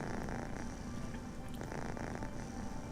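A cat purring in the Hidden Mysteries: Titanic video game, a continuous low rumbling purr that is soft and steady throughout, with no voices.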